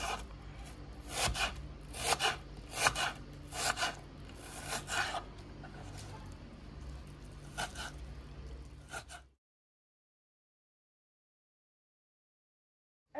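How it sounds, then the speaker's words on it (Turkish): Rapid, regular knife chops on a board as peeled onions are finely chopped, close and crisp, continuing in quick bursts before cutting to silence. "şimdi soyduğumuz soğanlarımızı ince ince kıyıyoruz."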